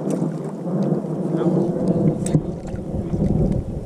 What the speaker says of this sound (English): I hope this audio picks up this lightning behind.